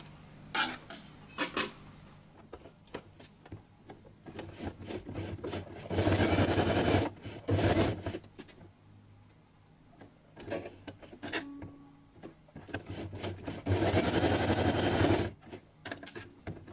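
A sewing machine stitching felt runs in two loud, steady bursts of a couple of seconds each, separated by quieter handling clicks and rustles, with no talking.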